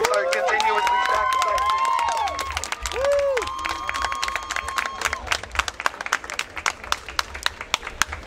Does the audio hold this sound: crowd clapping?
yes